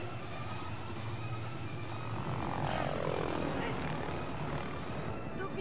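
Helicopter in the LEGO The Incredibles game on PS4, a steady, droning engine and rotor hum running throughout with a rising whine partway through, faint and under game sounds and speech.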